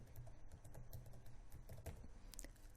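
Quick, uneven keyboard typing up close, a string of light plastic key clicks in irregular bursts with no one talking.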